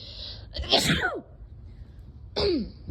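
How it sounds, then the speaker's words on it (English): A person sneezes loudly up close, followed moments later by a second, shorter sneeze; no talking in between. "it's making me sneeze thinking about it."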